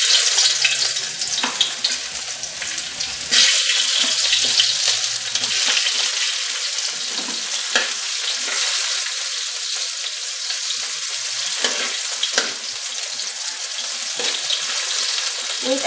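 Onion and garlic frying in hot oil in a pan, a steady loud crackling sizzle with occasional sharper pops and stirring scrapes throughout, no voices.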